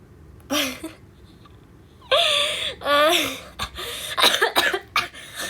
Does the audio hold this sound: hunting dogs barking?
no